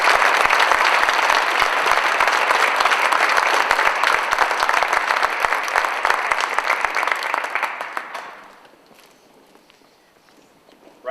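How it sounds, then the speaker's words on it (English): Sustained applause from a large audience honouring students at a donor appreciation dinner, loud and steady for about eight seconds before fading quickly into quiet room tone. "One more round of applause for our students."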